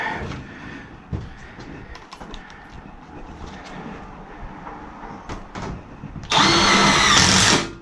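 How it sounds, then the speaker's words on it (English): Power drill driving screws while a flue pipe is installed for a new heating system, with clattering and handling sounds followed by a loud, close burst of drill whir near the end. "Just tapping a few screws in for now."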